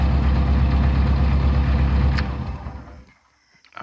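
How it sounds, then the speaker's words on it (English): A 1990 Jeep Wrangler YJ with a 2.5L four-cylinder engine and a starting problem runs loudly and steadily, then dies away into near silence before a faint stir at the end; no one speaks. "let me turn off the engine and we'll try starting it again"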